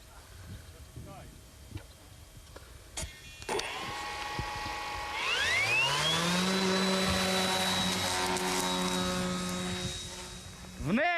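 A Danish Heidrun reconnaissance drone, a small military plane, launches in the field: after a few faint knocks and clicks, its electric propeller motor spins up into a rising whine, then holds a loud, steady, close buzzing drone.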